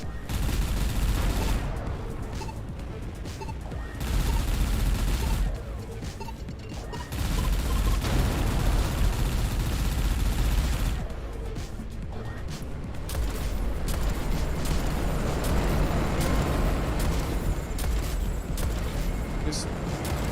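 Spaceship weapons fire in Everspace 2 in dense, continuous volleys of rapid shots and booms that rise and fall in loud bursts. Layered space combat effects surround the firing.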